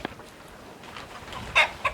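A chicken that has caught a mouse clucks a few times, soft at first and then with two sharper, louder clucks near the end, over quiet outdoor background.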